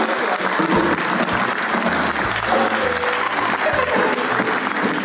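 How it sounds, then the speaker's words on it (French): Strong, continuous applause from an audience at an award ceremony, honoring the organisers, dense clapping at full volume throughout with some background music or voices beneath it. "de vous demander ensemble, vous et moi, d'applaudir chaleureusement les organisateurs"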